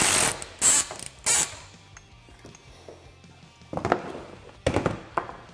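A hand ratchet tightens windshield hardware on a Polaris RZR Pro XP, with several bursts of quick clicking separated by quieter pauses and light handling noises, close by.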